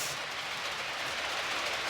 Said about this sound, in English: And you see how long this train is